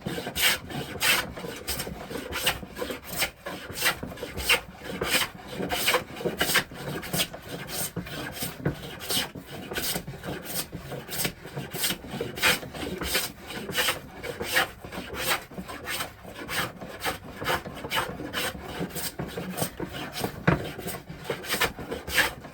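Hand plane shaving a walnut board coated with wax, steady rhythmic rasping strokes repeating quickly and evenly up close, with no talking.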